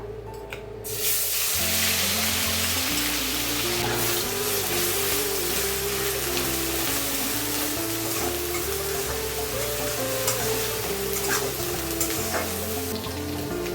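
Whole spices — cinnamon, large and small cardamom, cloves — frying in hot oil, a continuous sizzling hiss close by, heard alongside a low droning tonal background and no talking.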